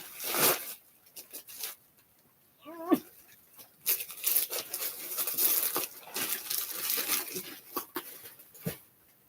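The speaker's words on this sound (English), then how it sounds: "So I got those plastic zipper bags where you keep one whole thing." Plastic zipper bags are handled close up, rustling and crinkling in irregular bursts with short zip-like rasps and faint thumps, and no talk.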